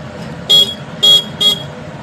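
Three short, loud horn honks from a Hero Super Splendor motorcycle with a new Amaron battery, evenly spaced and close, over a low idling engine rumble.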